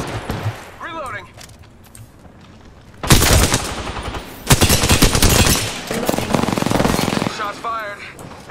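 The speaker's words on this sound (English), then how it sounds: "Shots fired, and they're hitting me." Automatic weapons fire in the Apex Legends video game comes in loud, dense rapid bursts, with stretches of a player talking in between.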